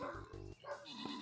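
Dogs barking in the video game Honey, I Joined a Cult, a few quick mid-pitched barks up close over a busy game soundscape, with a faint voice near the end.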